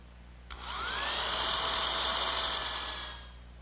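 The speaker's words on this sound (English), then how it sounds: "once again pre-drill some holes" A power drill bores pilot holes into the wooden saddle of a rocking horse, a steady whirring whine that spins up, holds for about two and a half seconds and winds down, close by with no talk.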